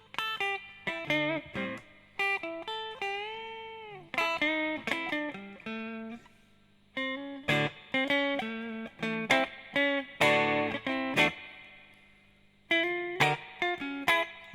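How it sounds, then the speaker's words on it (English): An electric guitar played with the middle pickup selected gives a bluesy tone: separate picked notes and short bends in phrases, broken by brief pauses, loud and close with no talking. "You get some really cool blue tones in the middle position."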